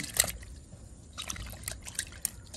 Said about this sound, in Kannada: ಚೆನ್ನಾಗಿ ನೀರಲ್ಲಿ ತೊಳೆಯುವ